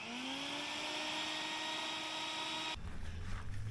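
Bucket Head vacuum powerhead running on a bucket with a hose attached, a steady high-pitched motor whine that cuts off abruptly near the end, leaving a lower hum.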